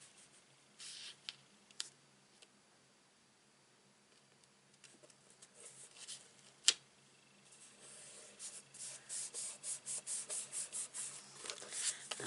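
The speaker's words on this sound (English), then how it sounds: "I'm just going to give it another rub from the back." A paper card being rubbed from the back to set a stamped border, quiet scratchy friction with scattered taps early on, then a run of rhythmic rubbing strokes near the end, close and faint.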